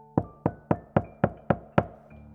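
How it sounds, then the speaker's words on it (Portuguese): Seven firm knocks on a door, evenly spaced and close, each one sharp and ringing briefly, then quiet. "bati na porta dela, preocupado"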